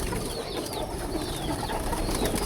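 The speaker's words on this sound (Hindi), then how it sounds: "असल कबूतर हैं, ओरिजिनल कबूतर हैं।" Soft pigeon cooing rises from a dense, constant background murmur of many birds, faint and continuous throughout.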